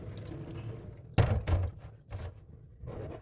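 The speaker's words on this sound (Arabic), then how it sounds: "هي نزلنا عليه المي السخنة" Hot water pours into a bowl of soaking grape leaves, a sudden splashing gush followed by a shorter pour and softer trickles, close by with no voices.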